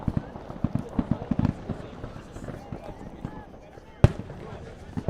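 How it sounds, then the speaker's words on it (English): Fireworks going off near a soccer field during a UPSL Premier match, a run of sharp pops clustered early then scattered, with one loud bang near the end, all under crowd noise and speech. "Someone spent a lot of money on fireworks over the weekend, and they were excited to use them all at once."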